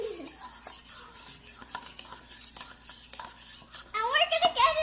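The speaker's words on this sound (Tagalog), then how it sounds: "So, imimix lang natin ang imimix. Oh, go mix." A child stirs hair conditioner and vinegar in a bowl, giving soft repeated scrapes and clinks of a utensil against the bowl, while an adult and someone talk over it.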